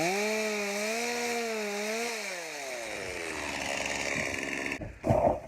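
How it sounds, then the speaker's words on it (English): A chainsaw engine drones loudly, its pitch rising and falling as the throttle shifts, then ends with a brief clatter. "Okay, so the chainsaw is running much better."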